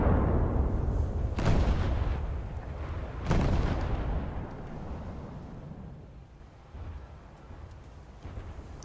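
155 mm naval guns fire in a warship video game, two heavy booming salvos a couple of seconds apart, each with a deep rumbling tail that fades into a low, steady background.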